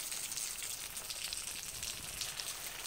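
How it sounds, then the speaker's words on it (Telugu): Leftover-rice punugulu fritters fry in hot oil, a faint, steady crackling sizzle with tiny pops, close and continuous throughout, with no talking. "అలా ఒక్కొక్కటి వేసుకొని మనం మంచిగా ఫ్రై చేసుకోవాలి"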